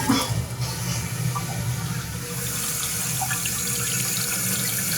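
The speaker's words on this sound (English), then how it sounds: "carefully turn the water on, and you will hear the water flow" Water rushes steadily into a newly installed toilet tank after a replacement toilet is fitted, a close, constant hiss that grows denser partway through and carries on alone.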